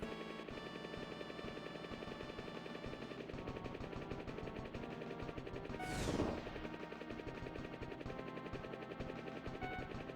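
Attack helicopter in the Pilotwings video game, its rotor and machine-gun fire blended into steady game audio with layered music, swelling briefly with a sweeping rush midway.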